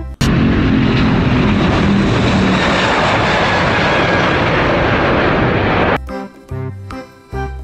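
A loud, continuous roar of a passing airplane fills most of the clip, then cuts off into quieter background noise.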